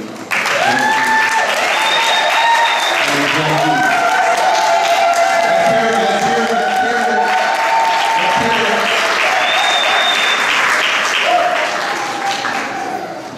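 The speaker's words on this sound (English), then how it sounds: "I want to begin by giving another pleasant round of applause for the bride and the groom." Wedding guests at a Ugandan Congolese wedding reception applaud the bride and groom in a long, steady round of loud clapping from a crowd, with voices and a few cheers mixed in throughout.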